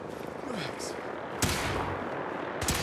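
Gunfire in Fallout 4 during a guard fight, with sharp broadband shots at intervals over a busy, noisy game background and faint voices.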